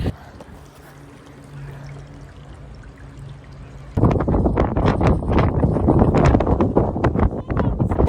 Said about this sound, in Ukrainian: Настільки був сильний вітер.